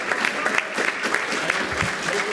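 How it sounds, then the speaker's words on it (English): A school board meeting audience gives a round of applause for a boys' athletic team, a short burst of dense, steady clapping from a crowd in an indoor room. "Big round of applause"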